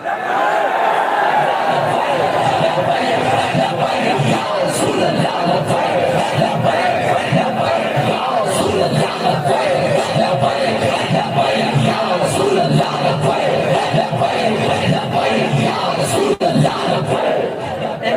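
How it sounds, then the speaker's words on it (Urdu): A large crowd at a religious conference in Pakistan roars and chants a Labbaik slogan together in unison, loud and sustained throughout, with a dense wash of many voices and no pauses. "لگا کے نعرہ بتاؤ کہ آج بھی لبیک کا نعرہ اسی طرح لگ رہا ہے"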